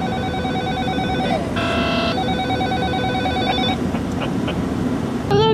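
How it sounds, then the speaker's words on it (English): An incoming call sets off a phone ringing with a steady electronic ringtone: repeated bright tonal beeps that pause briefly mid-way and then resume, over a constant background hum. "Why does he do that ringing thing? It's a call."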